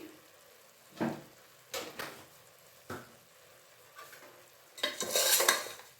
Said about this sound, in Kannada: ಮಿಕ್ಸ್ ಮಾಡ್ಕೊಂಡ್ಬಿಡೋಣ ತಲೆ ಮಾಂಸನ ಎಣ್ಣೆನಲ್ಲಿ ಒಂದು ಐದು ನಿಮಿಷ ಆದರೂ ಈ ರೀತಿ ಎಲ್ಲ ಮಸಾಲೆ ಹಾಕಿ